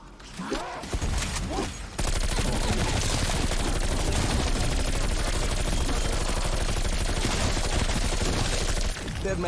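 Rapid, sustained automatic gunfire from the Bullfrog, pack-a-punched into High Anxiety, in Black Ops Cold War Zombies on Die Maschine, a loud continuous stream of shots after a couple of seconds of other game sounds.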